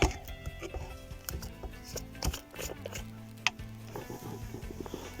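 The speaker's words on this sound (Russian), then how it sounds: "И пельмешки тоже обжарим." Dumplings fry in a steel non-stick pan with a quiet sizzle, broken by scattered taps and scrapes of a utensil close by.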